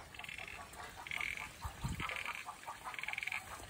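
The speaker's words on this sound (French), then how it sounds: "Ça c'est une grenouille." A frog croaks at a garden pond in repeated rasping pulses, faint and a little distant, against a steady outdoor background.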